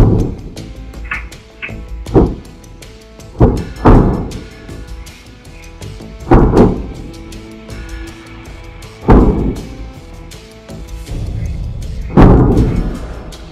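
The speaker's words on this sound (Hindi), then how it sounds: "तभी धमाकों की आवाजें आने लगती हैं" Repeated heavy booms from a night-time attack on a populated area, five or six loud thuds spaced a couple of seconds apart, each with a rumbling tail over a low background.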